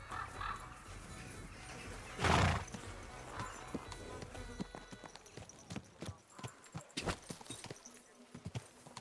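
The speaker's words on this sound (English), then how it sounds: "Oh, where'd my horse go?" A horse in the medieval game Kingdom Come: Deliverance II neighs loudly once, then its hooves clip-clop in a steady rhythm on hard ground, fairly close, with a little talk over it.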